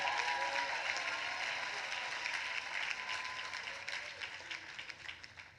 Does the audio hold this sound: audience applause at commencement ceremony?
yes